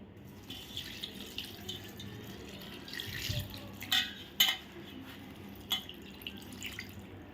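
Water trickles and drips into a vessel over flattened rice, with a few sharp splashy drops standing out over a steady low wash of running liquid.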